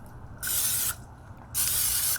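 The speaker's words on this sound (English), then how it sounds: "So we have some olive oil spray." Olive oil cooking spray hisses onto the inside of metal rings on a Blackstone 22-inch griddle, two separate bursts of about half a second each with a short pause between them, close and loud.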